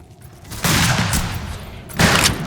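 Gunfire in the Western video game Fistful of Whiskey: loud, close bursts of rapid shots in two sustained volleys, with a rattling fusillade texture.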